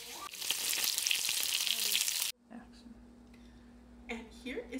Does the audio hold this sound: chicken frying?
yes